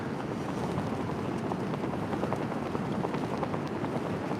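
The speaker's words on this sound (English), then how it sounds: "It's very, very windy." Steady, roaring wind buffets the microphone in a continuous broadband rush, with no speech and only slight gusting changes throughout.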